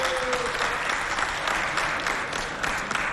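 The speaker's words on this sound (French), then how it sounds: "Applaudissez pour moi." Sustained audience applause at the FestAfrica show, a thick, continuous patter of many hands clapping together, fairly loud and steady with small swells, no voices over it.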